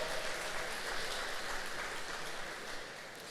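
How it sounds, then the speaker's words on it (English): Audience applause at a city State of the City address in Franklin, a steady, fairly faint wash of clapping from a large crowd throughout. "If we can give him a round of applause."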